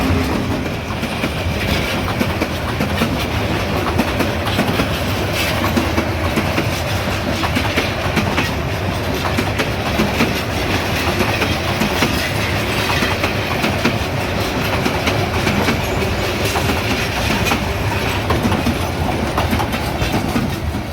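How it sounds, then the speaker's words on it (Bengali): A train crosses a railway bridge near Sylhet, Bangladesh, close by, with a loud, steady rumble and wheel clatter that fills the whole stretch without a break. "আমরা ট্রেনের জন্য অপেক্ষা করতেছি, দেখা যাক ট্রেন আসুক"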